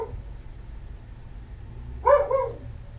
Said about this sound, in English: I'm just going to apologize about the barking.